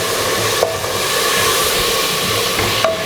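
Chicken biryani mixture stirred inside a pressure cooker, a steady scraping and sizzling hiss with faint clinks of the spoon, continuous and close.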